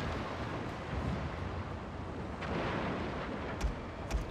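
Cannon volley in Total War: Shogun 2 naval battle, a deep continuous rumble of booming fire with a couple of sharper blasts toward the end.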